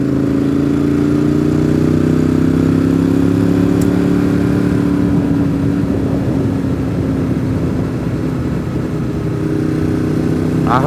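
A vehicle rolls steadily along a freshly laid gravel road, its engine droning loud and continuous while a coarse crunch and clatter of stones spreads underneath, especially in the second half.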